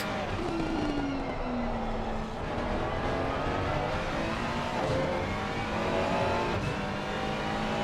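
GT3 race cars roar in the Assetto Corsa Competizione video game. Engine notes sweep up and down through the rev range, with another car's whine drifting past, all loud and continuous under a commentator's voice.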